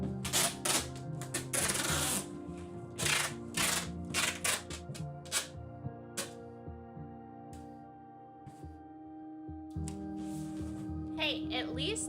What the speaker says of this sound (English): at least there's no doubt that I'm doing it because you can hear the tape